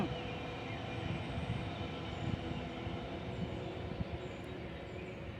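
A train rumbles past nearby, a steady, dense roar of wheels and carriages filling the whole stretch without any speech.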